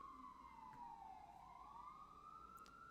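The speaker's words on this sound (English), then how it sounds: "Freaking siren." An emergency siren wails outside, heard faint and distant as a single long tone that slowly dips and then rises again, with no voices over it.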